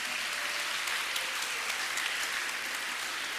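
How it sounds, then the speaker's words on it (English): An audience at a school assembly applauds after a dance performance, a continuous, fairly distant crowd clapping with a few sharper claps standing out, steady throughout without speech. "Let's give a round of applause for that wonderful performance."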